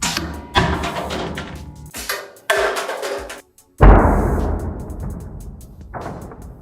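An iPhone 17 Pro Max and a Galaxy S25 Ultra are dropped 1.5 m onto their corners, giving several sharp hard thuds and clatters with brief gaps between them.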